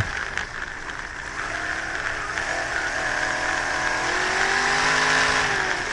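A dirt track race car engine drones loudly and continuously from close by, holding a sustained roar that rises slightly in pitch as the car runs laps. No one speaks.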